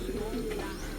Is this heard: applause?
no